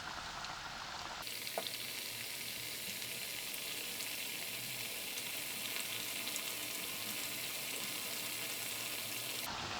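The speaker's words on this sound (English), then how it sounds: "When the cooking oil is ready, we start dipping in the pancakes." Milk and vanilla pancakes drop into hot cooking oil and fry, setting off a loud, dense, continuous sizzle that holds steady for several seconds and then stops abruptly near the end, with no one speaking.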